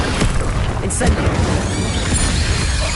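An Incendio fire spell in the wizarding game Hogwarts Legacy bursts with a loud, booming whoosh over dense battle noise, with a voice calling out across the scene.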